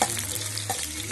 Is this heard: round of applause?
no